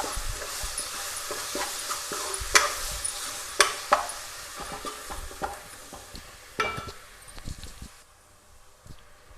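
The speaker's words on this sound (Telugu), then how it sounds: "ఈ మసాలా పచ్చి వాసన వేగినంత వరకు వేసుకుందాం." Masala fries in a pan and is stirred. A soft sizzle runs throughout, broken by scraping strokes and sharp clicks of the spoon against the pan, with no talk.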